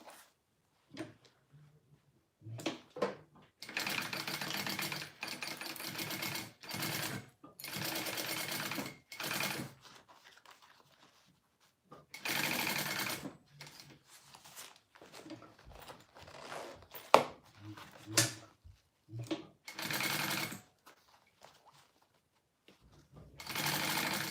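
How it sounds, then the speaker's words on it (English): Sewing machine stitching a 1/4 inch seam on a fabric wristlet, running in repeated bursts of a few seconds each separated by short pauses, close and moderately loud. "And then we'll sew that down at a 1/4 inch seam allowance"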